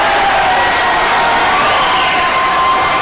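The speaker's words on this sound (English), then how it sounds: "Crowd loves it." Basketball crowd in a high school gym, Steamboat Sailors against Conifer, cheering loudly and continuously at close range, a dense roar of voices.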